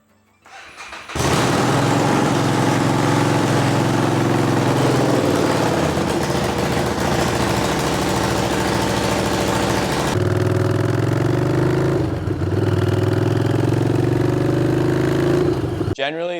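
A Harley-Davidson Street 500 motorcycle turns over and fires after a short quiet moment, then settles into a loud, steady, rumbling idle held close up, with a brief change in pitch partway through.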